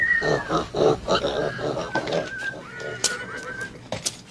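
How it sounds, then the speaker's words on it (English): Pigs grunting and oinking up close in a western film scene, a run of loud, uneven snorts and squeals that fades to scattered grunts. "Now get from here, you pigs."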